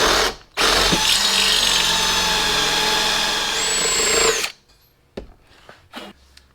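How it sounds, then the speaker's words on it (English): Power drill with a stepper bit boring through a car bumper: a loud, sustained whine lasting about four seconds with a rising squeal near the end, then the motor stops and a few scattered knocks and clatters follow. "We're going to get our stepper bit here."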